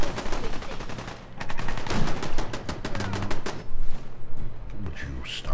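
Rapid bursts of gunfire in the Fallout 4 video game crackle in dense, loud volleys with brief pauses between them, alongside a voice speaking.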